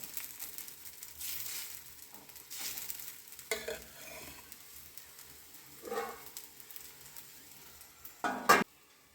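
Raw banana dosa batter cooks on a hot pan with a quiet, steady sizzle, broken by scraping and stirring noises and a sharp clatter near the end.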